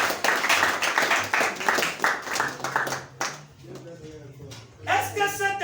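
A church congregation claps loudly in a dense, steady burst for about three seconds, then the applause thins out and a voice starts speaking over the last scattered claps.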